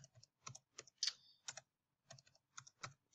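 Data entered on a TI-83/84 graphing calculator keypad: close, quiet taps fall in short irregular clusters with brief pauses, and no one speaks.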